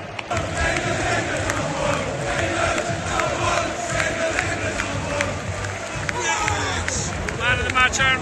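A football stadium crowd celebrates a Southampton win over Everton, a loud, continuous roar of cheering and babble with scattered shouts and clapping, swelling again near the end.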